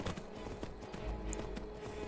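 Horse hooves clip-clop steadily in Skyrim, a fairly quiet run of soft, evenly spaced thuds over a low ambient bed with no voices.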